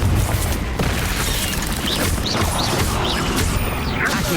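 Confringo fire-spell blasts in the Hogwarts Legacy video game make a dense, continuous barrage of booming explosions and crashing impacts, loud and close throughout with no pause.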